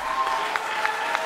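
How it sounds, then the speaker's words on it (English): Audience applause at a live music evening at the Winemakers, a steady dense patter of clapping close by, with no voices over it. "Dakota Jimmy, you should be applauding for that one."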